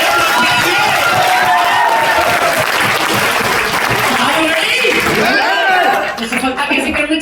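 An audience at a real estate business meeting claps and cheers in a loud, dense continuous wave of applause and crowd noise that fades slightly toward the end, with voices mixed in.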